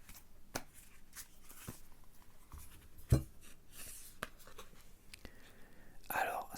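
Tarot cards are drawn and handled in a quiet ASMR setting: soft, close card slides, light taps and faint shuffling flicks, scattered and gentle, with whispering throughout.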